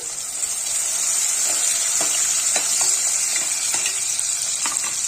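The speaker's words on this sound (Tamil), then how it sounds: "வதங்கிட்டு இருக்கு இதில் பத்து பூண்டு பல் நான் நீட்ட வாக்கில் கட் பண்ணி வச்சுருக்கிறேன் இதையும் அதோட போட்டுக்கலாம்" Ten cloves of lengthwise-sliced garlic sautéing in hot oil in a pan, a steady close sizzle and hiss with scattered light scraping taps from stirring, no voices.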